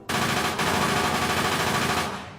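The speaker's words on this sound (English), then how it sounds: "Then the 2 machine gunners opened up." Machine gun fire in a sustained, dense rapid burst, loud and close, rattling continuously for about two seconds before tapering off slightly.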